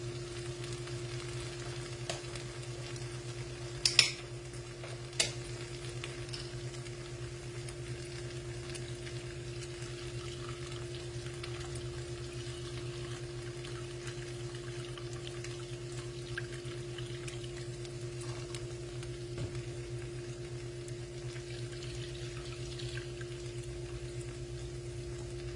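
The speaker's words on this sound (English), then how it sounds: "We're going to add a cup of vegan protein broth." Vegan protein broth in a hot pan gives a faint, steady low sizzle and simmer with a constant hum, broken early by two brief sharp clicks, close and quiet throughout, with no talk.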